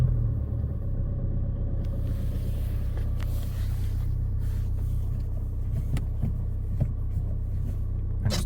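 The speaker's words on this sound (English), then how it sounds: "start it up. Let's get it running. Warm up a bit." A push-start diesel car engine cranks and catches, then settles into a steady, loud rumbling idle close to the microphone.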